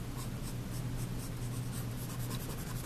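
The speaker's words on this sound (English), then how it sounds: "make sure you take your eraser and erase in" An eraser rubs back and forth across a charcoal drawing on paper, a steady close scratchy scrubbing that repeats in quick strokes over a low background hum.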